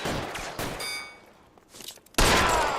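Gunfire in the LA Noire Remastered video game: sharp, loud bursts of shots ring out in quick succession, with a lull before a heavy volley near the end.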